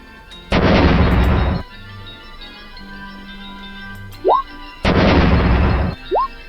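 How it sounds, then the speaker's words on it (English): A landmine sound effect: two loud, heavy blasts roughly four seconds apart, each about a second of dense roar, with short rising whistle-like tones between them and no talking. "vaporized by the explosion, as you hear."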